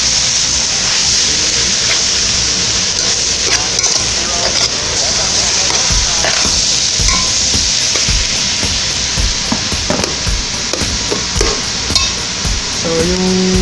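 Shrimp sautéing in a hot oiled pan for shrimp pilaf, with steady loud sizzling and frying and occasional clinks of a utensil stirring throughout.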